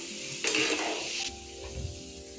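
Ivy gourds fry in oil in a pan with a loud burst of frying hiss, then settle into a steady crackle with a few stirring scrapes.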